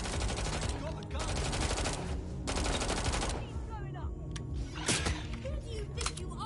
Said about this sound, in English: I'll shoot! Got a gun!